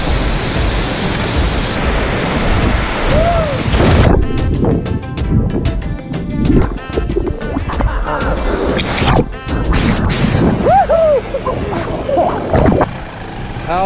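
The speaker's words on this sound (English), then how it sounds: "We're now gonna go under the waterfall and take you guys with us." Churchy Falls in Hawke's Bay pours down in a heavy, close roar of rushing water, loud and unbroken, with splashing bursts as the water crashes nearby.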